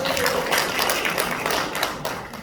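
Audience applause at a Korean political lecture in a large hall, a dense wash of many hands clapping at moderate loudness that holds steady and then tapers slightly toward the end.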